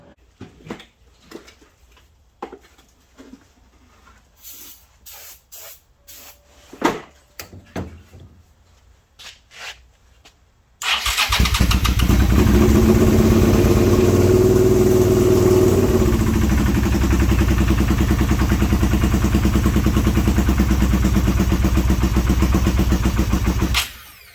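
A Suzuki SV motorcycle engine is cranked and starts abruptly after some scattered tapping and knocking, then runs loudly and steadily at a rough, close idle with a brief rise in revs before cutting off at the end.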